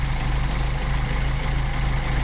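A Mercedes 190SL engine idles on its Solex carburetor, a loud, close, steady low rumble with an even pulsing rhythm throughout.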